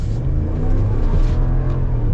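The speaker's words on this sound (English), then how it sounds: "let's get our little acceleration here with the 1500 to see how it goes with this e-torque" A 2021 Ram 1500 Sport pickup with the 5.7-liter Hemi V8 and eTorque accelerates hard, its deep, steady engine rumble loud and close throughout with no talking.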